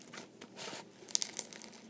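Crunchy homemade floam slime is squeezed and pressed up close, giving soft crinkling with a cluster of sharp little crackles and pops toward the end, quiet and with no voices.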